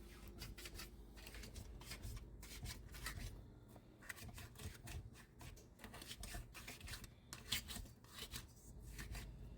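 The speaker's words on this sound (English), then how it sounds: "Usually you just gotta scrape it down the sides" A spatula scrapes down the sides of a mixing bowl holding cream cheese, a faint series of quick rasping strokes in uneven rhythm with no talking.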